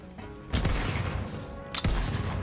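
Player's gun firing in the video game Borderlands 3, two loud bursts of gunfire with sharp onsets followed by sustained rattling rumble, close and dominant.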